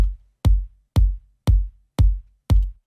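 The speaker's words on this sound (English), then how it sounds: "I chose a really soft and subtle kick from my Organic House Daydreamer sample pack" A soft, subtle organic house kick drum sample plays alone, six deep rounded thumps at an even steady pulse about half a second apart, each with a short decaying low boom.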